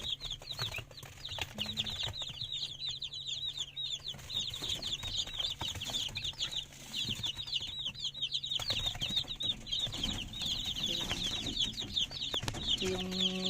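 A flock of Rhode Island Red chickens, including a newly hatched batch of chicks, keeps up a dense, continuous chorus of high peeping and chirping, with soft clucks and faint shuffling underneath.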